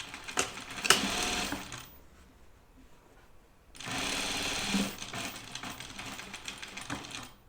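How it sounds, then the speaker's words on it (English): Sewing machine stitching a small dart in fabric: two bursts of rapid mechanical whirring, the first lasting about a second and the second lasting several seconds, separated by a quiet pause. "I'm going to sew this. It's like a little dart."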